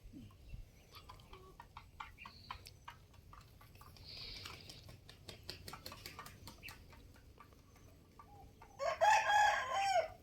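A young rooster crows several times in a farmyard, its calls rising over steady clucking and scattered chicken noises, with a louder, close crow near the end.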